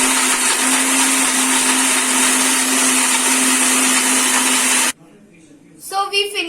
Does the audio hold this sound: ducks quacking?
no